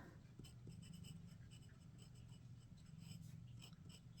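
A glass dip pen with a fine tip scratches across paper in short, steady strokes, a close, dry, raspy scraping that continues throughout with no talking.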